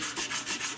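Sandpaper worked back and forth over heavy bedding filler on a rifle stock, a close rhythmic scratching with about four even strokes and no talk.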